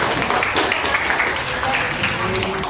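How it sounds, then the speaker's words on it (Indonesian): Students in a high school biology class applaud a classmate named Okta for ranking first, a short burst of steady group clapping with some voices mixed in. "Tepuk tangan dong untuk Okta"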